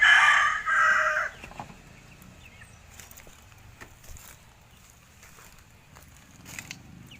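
Pungkan and yellow-legged hens in a backyard breeding pen give a loud, close crowing call at the start, then fall into faint, scattered clucks, rustling and light wooden knocks.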